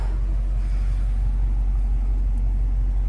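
A deep, steady engine rumble from a 2018 Dodge Challenger's 5.7-litre naturally aspirated engine idles continuously at close range, low and even with no voices.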